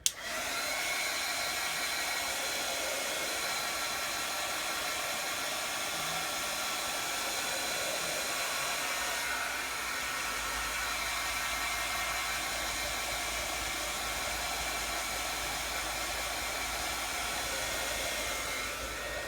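A hair dryer or heat tool dries freshly applied craft paint for an Illustrated Faith journaling kit, giving a loud, steady, unbroken rushing whir close by for the whole stretch.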